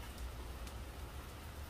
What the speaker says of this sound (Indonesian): di luar hujan ya